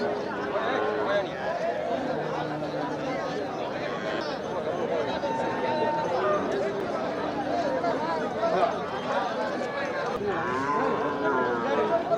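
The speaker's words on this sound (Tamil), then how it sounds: "என்ன இது வண்டி மாடா" Cattle low at the Oddanchatram cattle market in Dindigul, several long moos rising and falling over a busy murmur of people chatting nearby throughout.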